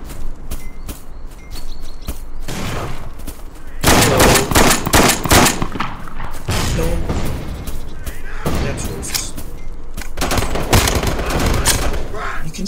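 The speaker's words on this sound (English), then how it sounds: "You can shoot those guns, man." Rapid automatic gunfire and scattered single shots in the PC shooter Bullet Force, loud bursts of varying length with brief pauses between them.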